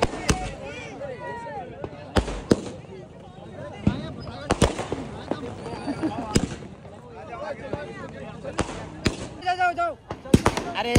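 Firecrackers burst in sharp, irregular bangs, some near and loud, while people talk and call out between the blasts.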